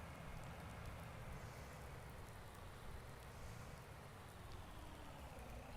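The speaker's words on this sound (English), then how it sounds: "we won't be able to do anything with this corn today because it is raining" Rain falls in the Farm Simulator video game as a soft, steady patter and hiss that continues evenly throughout at low volume, with no voices.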